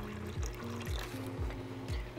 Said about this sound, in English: Then I'm gonna scoop some water from the tank and we're gonna slowly add it to the bucket.